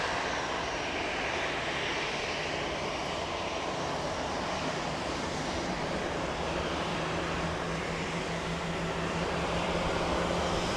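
Lufthansa airliner at Manchester Airport, its jet engines a steady, loud, broadband roar that holds throughout and swells slightly near the end, with no talk over it.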